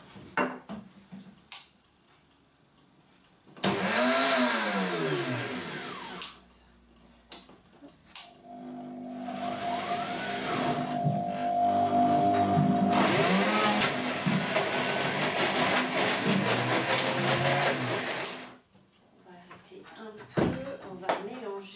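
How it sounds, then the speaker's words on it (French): A kitchen blender whirs loudly as it blends spinach pesto for a raw pizza, running in steady bursts with pauses between them, while a person talks before and after. "Voilà, et je vais mixer."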